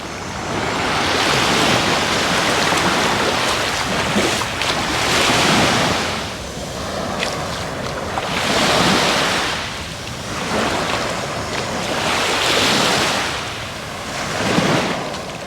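Waves surge and break on the beach at Ca'n Pastilla, Mallorca, on a rainy day, with wind buffeting the microphone; the surf rises and falls in repeated swells of roughly four seconds, close and loud, with no voices.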